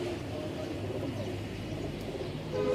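Soft cooing from a flock of tall, high-flying pigeons rolls on continuously in a close, steady murmur, with a faint chirp near the end and no one talking.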